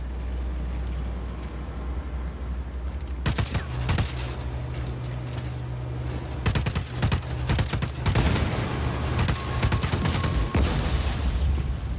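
Bursts of gunfire hammer a generator in Just Cause 4, several loud rapid volleys of shots breaking over a steady low engine-like hum, with short gaps between the bursts.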